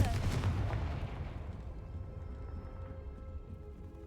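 Confringo blasting spells burst in the Hogwarts Legacy video game, a loud booming explosion up front that fades into a rumbling tail.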